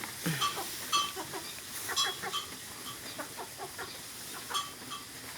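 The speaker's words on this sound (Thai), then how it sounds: "ไก่ตัวนี้" Chickens at a farm cluck repeatedly in short, faint calls, a quiet scattered chorus of several birds clucking over soft background noise.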